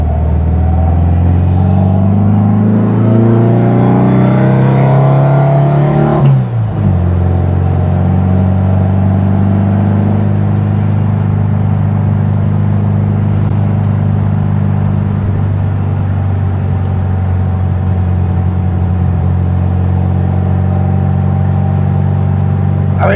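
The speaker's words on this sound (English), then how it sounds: "Engine seems happy with the load" A 1972 VW Beetle with a dual-carb engine idles steadily and loud up close, its low, even rumble shifting slightly in pitch about a quarter of the way in, then settling into a smooth, continuous idle under load from the compressor.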